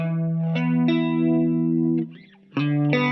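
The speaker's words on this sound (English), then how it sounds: "the output of the Autopanner will sound like this" Electric guitar sustaining harmonic chords through a stereo autopanner that sweeps it left and right, with distorted, effect-laden tone, a brief dip near the end before the chord returns loud and alone.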